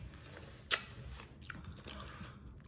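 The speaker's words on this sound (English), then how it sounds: "Probably shouldn't be chewing ice during the video, but that's me." Ice being chewed close to the mouth, with one sharp crunch standing out followed by a few softer crunching bites against a quiet room background.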